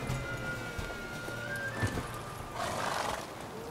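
A horse in a video game whinnies with a drawn-out neigh amid steady hoofbeats and background game ambience, moderately loud and continuous.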